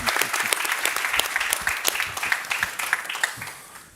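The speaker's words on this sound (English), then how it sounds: "An applause" A conference audience at a fire safety at sea event breaks into sustained applause, many hands clapping densely and close, then thinning and fading toward the end.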